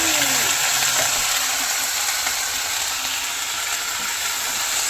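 Home-grown brinjal curry fries with ginger paste being stirred in, a steady close sizzle with soft stirring scrapes underneath.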